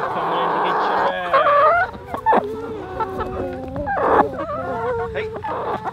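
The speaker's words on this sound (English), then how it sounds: "We got a loose chicken." A loose chicken clucks in a farmyard, with a series of short, moderately loud calls and squawks under and between people's voices.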